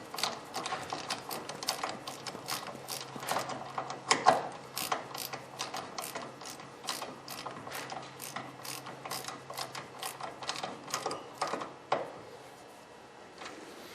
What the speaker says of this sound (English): use our torque wrench and we'll back her down to 20 foot-pounds